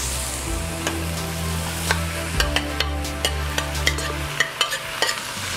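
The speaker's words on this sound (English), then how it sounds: "at this point, we can add the beans." Beans go into a hot soup pot and sizzle steadily, with a low hum of the stove beneath and a series of sharp metallic taps and scrapes of stirring, growing busier toward the end.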